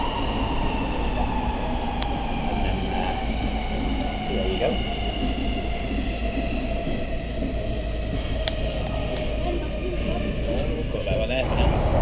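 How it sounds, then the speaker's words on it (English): A Munich subway train on the move, heard from inside the car as a steady, loud rumble with a droning hum and faint rail clatter, while someone speaks briefly over it. "Just got off subway, Untergrund."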